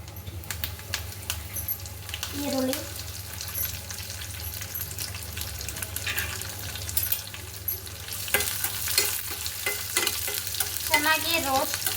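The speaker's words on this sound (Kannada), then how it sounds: "ಸಾಸಿವೆ ಎಲ್ಲ ಹಾಕ್ಕೊಂಡು ನೋಡಿ ಎಣ್ಣೆ ಕಾದಿದೆ" Mustard seeds frying in hot oil in a home kitchen, with a steady close sizzle and crackle running throughout, growing busier and louder toward the end with scattered pops.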